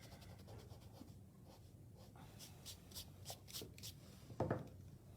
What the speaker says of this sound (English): Now I'm going to erase them at this point.